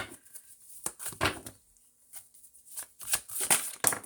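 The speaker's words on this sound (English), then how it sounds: "let me just go ahead and shuffle it a little bit better" A deck of playing cards is shuffled up close in several quick riffling bursts with short pauses between them, crisp and fairly loud, with no talking.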